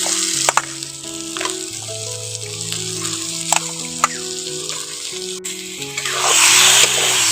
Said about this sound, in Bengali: এবার চিকেনটা দিয়ে দেবো চিকেনটা দিয়ে দিচ্ছি